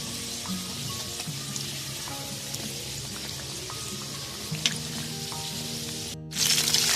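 Chicken wontons frying in hot oil until light brown give a steady, close sizzle with soft popping and crackles throughout, briefly rising louder near the end.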